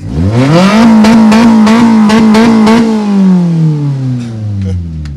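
A 2016 KTM EXC dirt bike engine revs up hard and holds a high, buzzing whine, then winds down as it fades; loud and close, no talking.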